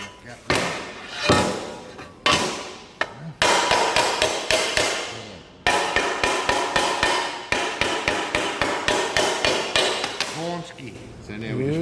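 Hammer blows on an aluminium boat part during a hand-cut aluminium boat build, loud sharp metallic taps in quick rhythmic bursts with brief pauses between groups.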